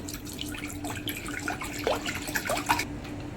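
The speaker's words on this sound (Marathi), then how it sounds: "आता आम्ही बाऊल घेतलेला आहे ह्याच्यात आपण एक लिटर पाणी घेणार आहोत" Water is poured into a bowl, a litre in all, with a light continuous trickle and a few bright splashing drips, close and fairly soft.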